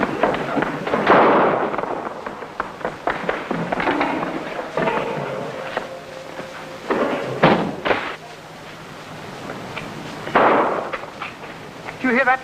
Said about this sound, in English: That was the sound of shots